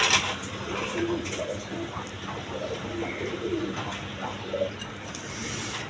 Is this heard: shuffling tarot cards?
no